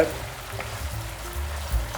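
Ajapsandal vegetables sizzle and crackle steadily in a hot pan while being stirred, with occasional scraping knocks; close and moderately loud, no talking.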